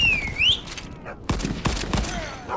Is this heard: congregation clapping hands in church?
no